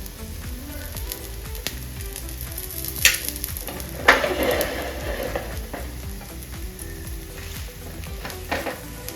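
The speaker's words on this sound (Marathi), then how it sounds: "बारीक गॅसवरती चांगला पराठा आपल्याला भाजून घ्यायचा" Beetroot paratha fries in oil on a pan over low heat, giving a continuous close sizzle broken by occasional scraping and a few sharper crackles.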